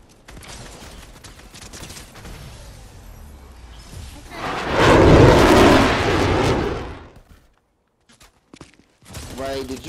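A dense, loud burst of rapid gunfire erupts mid-way through a Fortnite match, rolling for about three seconds amid quieter gameplay rumble, with a voice briefly talking near the end.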